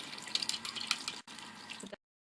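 Water from a tap runs over glass to rinse off etchant, a close splashing stream for about two seconds that briefly breaks and then cuts off.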